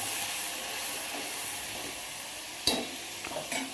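Onion, tomato, ginger and garlic gravy paste sizzles and hisses steadily in a hot pan for Indian chole, with a stirring clatter and a few sharper spoon knocks near the end, and no voices.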